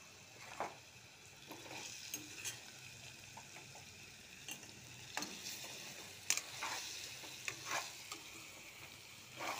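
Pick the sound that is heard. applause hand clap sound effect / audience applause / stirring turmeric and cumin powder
stirring turmeric and cumin powder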